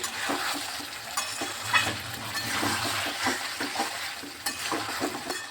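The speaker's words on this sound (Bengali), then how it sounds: "ভালোভাবে চিনিটা দিয়েও কষিয়ে নিচ্ছি।" Diced potatoes sauté in a pan with sour curd and sugar, giving a close, steady sizzle with irregular scraping strokes of a spoon as the mixture is stirred, with no voices.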